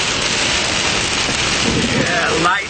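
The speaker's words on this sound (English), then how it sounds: "I'm in the middle of a cloudburst here." Heavy summer cloudburst in Idaho, dense rain roaring steadily and close throughout with rumbling thunder mixed in, loud and unbroken, with a brief dip right at the end.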